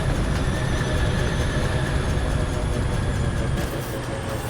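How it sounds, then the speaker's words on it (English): A train arrives in the video game Foundry with a continuous rumbling roll of wheels on rails and a faint high squeal, steady and fairly loud, easing slightly near the end. "I still got to wait for the train to come in"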